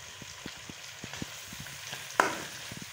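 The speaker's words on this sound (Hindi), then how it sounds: "हमने चिकन को एक साइड पर करके जो है ना अदरक और लहसुन को जो है ना फ्राई कर रहे" Ginger garlic paste frying alongside chicken in a pan: a quiet, soft sizzle broken by light, irregular stirring taps, with one sharper clink of a utensil near the end.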